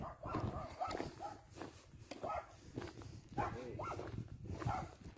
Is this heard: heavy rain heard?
no